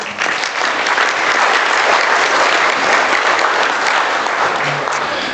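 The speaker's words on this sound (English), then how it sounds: "We'll give you a round of applause." A crowd at a national 4-H livestock judging contest awards ceremony claps in a steady, full round of applause for about five seconds.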